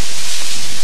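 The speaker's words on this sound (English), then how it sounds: "Why does it feel like the wind got worse?" Loud, steady wind roaring near a tunnel, a broad hissing rush that blankets the short stretch without a break and drowns everything else.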